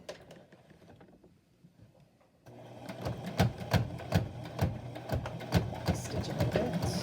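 A sewing machine labors through several layers of face-mask fabric, starting with a quiet hum before its rhythmic, strained stitching kicks in loudly and repeatedly, close up with no talking.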